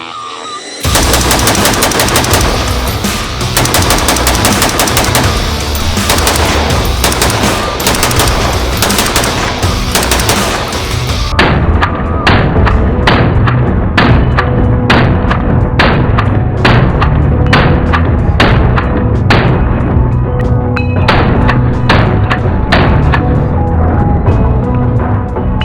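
Aero Precision M5 AR10 battle rifle with a titanium compensator firing loud rapid strings of shots, a dense continuous barrage that later breaks into distinct sharp reports with short gaps between them.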